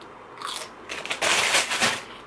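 Close, crisp crunching of raw sugar snap peas, a few bites breaking into a dense run of crackly chewing, with no voices.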